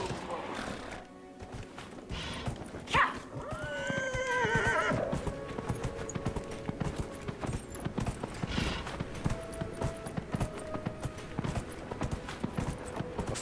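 A horse in Dragon Age: Inquisition gives a clear whinny near the start, followed by steady clip-clopping hooves. Someone speaks briefly over it.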